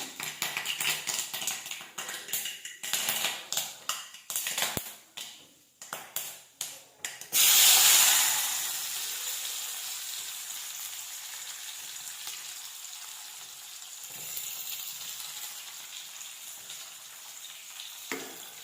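Chopped onions and curry leaves hit hot oil in a kadai with a loud hiss, then sizzle steadily; earlier, stirring clatters and scrapes against the pan in irregular bursts.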